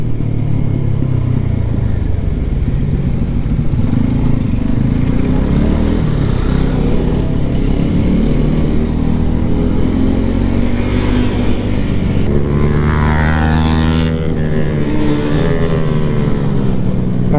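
Motorcycles fitted with aftermarket exhausts ride together on a Sunday group ride along the Aravalli hills near Gurgaon, a loud continuous engine drone with rising and falling revs from several bikes close by.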